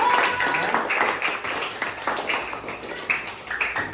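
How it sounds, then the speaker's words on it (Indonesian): Primary school pupils in a fifth-grade classroom applaud two student groups, a lively, uneven patter of small hands lasting a few seconds, moderately close, with scattered voices mixed in. "Tepuk tangan untuk kelompok 1 dan 2"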